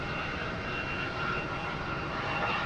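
An airplane glides in to land at Boston Logan Airport, its engines making a steady, broad roar that holds level and fairly loud throughout.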